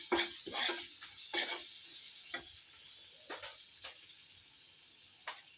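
Finely chopped onions sizzle in a hot pan as a spoon stirs them. Several quick scraping strokes come close over a constant frying crackle, then ease off while the sizzle continues.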